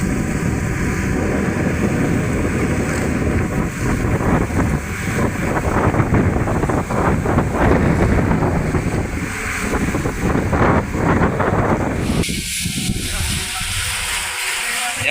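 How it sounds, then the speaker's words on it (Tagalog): Strong monsoon wind battering the microphone over rough sea waves from a boat, a continuous loud roaring rush, with a voice speaking faintly beneath it before the gusts abruptly drop near the end. "Pero maalon-alon na po gawa ng hanging habagat tapos malakas ang hangin."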